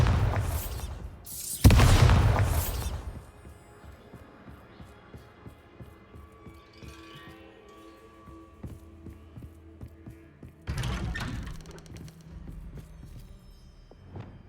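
A Bombarda spell goes off in the video game Hogwarts Legacy as a loud, deep booming blast, followed by a low hum and another burst later on.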